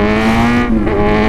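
Sport motorcycles, a Yamaha R6 and a Kawasaki ZX-6R, riding alongside on the road, their engines holding a smooth steady drone with a slight pitch shift midway, loud and close.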